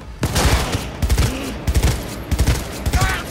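Gunfire in the video game Cyberpunk 2077: several short bursts of shots crack out at irregular intervals, loud and close, with no talk over them.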